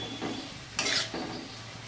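Onion greens fry in a little oil under a soft, steady sizzle, broken by a few stirring strokes, the loudest a sharp scrape near the middle.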